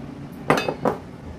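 A spatula mixing wheat flour dough in a metal bowl, giving two or three sharp clinks and scrapes against the bowl, close and otherwise quiet.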